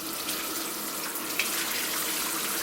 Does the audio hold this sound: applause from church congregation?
no